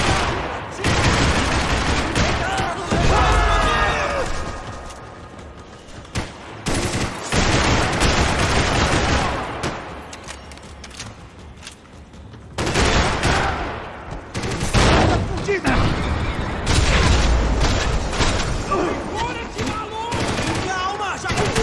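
In the video game Max Payne 3, gunfire rattles on a Brazilian street: long, loud bursts of automatic fire and repeated shots, broken by short pauses, with voices shouting in between.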